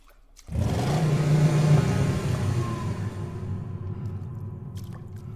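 A car engine in an alien horror video game starts abruptly and holds a loud, steady low rumble with a slight rising whir, then settles into a continuous drone.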